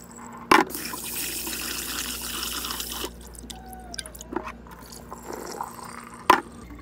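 Rice-rinsing water poured out of a Cuckoo CRP-LHTR0609F rice cooker pot: a close, steady splashing stream for a few seconds, then trickles and drips, with a sharp knock near the start and another near the end.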